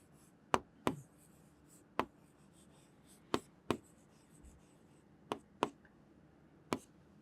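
A pen moves across paper during a quiz lesson, giving about ten crisp taps and strokes at irregular intervals over a quiet background, with no speech.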